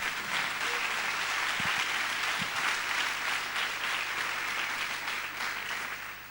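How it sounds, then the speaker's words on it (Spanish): A church congregation claps loudly and steadily for Christ, a continuous wash of applause that fades slightly at the close, with no speech over it. "Denle un aplauso fuerte a Cristo"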